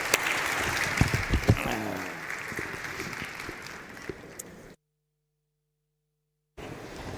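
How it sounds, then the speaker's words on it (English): An audience at a plenary session of a global forum claps, a sustained wash of applause with voices mixed in that tapers off before a gap of silence. "round of applause for my distinguished guests"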